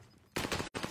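Rapid gunfire in a video game, a sudden loud burst of automatic shots after a quiet opening, cut by one short gap before the firing resumes.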